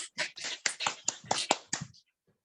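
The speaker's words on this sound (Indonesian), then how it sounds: "Tepuk tangan untuk kita semua." Participants in an online English competition meeting clap, about ten distinct, close hand claps in a quick, slightly uneven run before stopping into silence.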